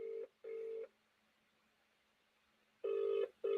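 A phone ringing on an outgoing call, with repeated ringback tone bursts at an even rhythm and a long quiet gap between them, fairly faint and with no talk over it.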